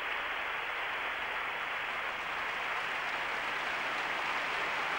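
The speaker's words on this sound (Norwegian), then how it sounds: "Applaus for kveldens første artist" Audience applause in the hall at the 1985 Eurovision Song Contest in Gothenburg for the evening's first act, a dense, continuous roar of many hands clapping, steady and sustained throughout.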